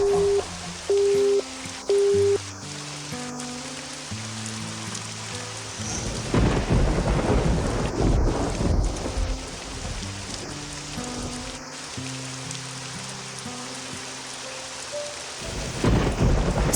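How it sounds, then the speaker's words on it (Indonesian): Heavy rain pours steadily with rumbling thunder, loud and close, while soft music plays underneath. "hujan deras"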